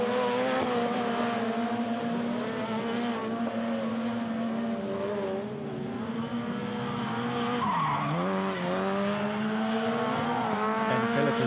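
Supercar Lites rallycross cars race in a RallyX Nordic 2019 semi-final at Tierp, with loud, continuous engine roar rising and falling in pitch as they rev and shift, without pause.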